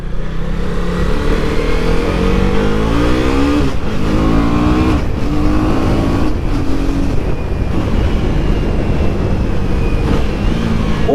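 A Husqvarna Vitpilen 250 motorcycle accelerates hard through the gears with its quick shifter, the engine note climbing repeatedly and dropping sharply at each quick upshift, loud and close over wind noise.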